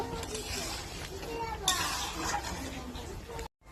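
A spoon stirs ghugni in a pot just after cardamom powder goes in, with scraping and clinking against the metal over steady background noise and some nearby voices.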